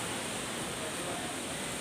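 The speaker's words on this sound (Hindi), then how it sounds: "झरना" A waterfall at a tourist spot in Keonjhar produces a steady, broad rushing roar, continuous and fairly faint, with no other sounds rising above it.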